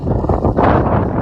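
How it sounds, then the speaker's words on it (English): Wind buffets the microphone in a steady low roar, loud and close, swelling slightly midway, on the Red Bull Hardline 2023 mountain bike track. "Oh, it's windy, mate."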